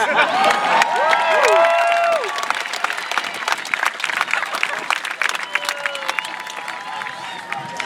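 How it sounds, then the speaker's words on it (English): Crowd at a Mallrats screening applauds and cheers for Kevin Smith, loud dense clapping with whoops and shouted cheers rising early, then sustained applause continuing throughout. "Let's give another round of applause for Kevin Smith, you guys."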